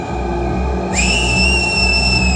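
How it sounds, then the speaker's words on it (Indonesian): A person whistles to call a dog: a sustained, loud whistle with a slight upward bend that begins about a second in and holds steady over a low background hum. "membuat siulan untuk memanggil Max, guguk yang selalu menemaninya"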